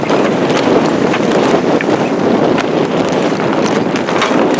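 Strong wind at sea buffets a sailboat on a broad reach, a loud continuous rushing roar with gusty, rattling texture close to the microphone.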